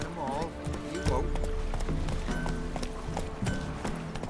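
A horse named Roach gallops in a video game, hooves clip-clopping in a quick steady rhythm close by, with a short whinny near the start. Someone talks over the hoofbeats.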